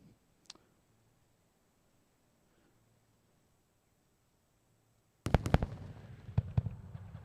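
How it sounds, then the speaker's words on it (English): A Falcon 9 booster landing at Kennedy Space Center sends sonic booms that arrive as sudden sharp cracks after a near-silent stretch, followed by several more thumps and a rumbling tail, heard from a distance. "We've heard double sonic booms here at Kennedy Space Center"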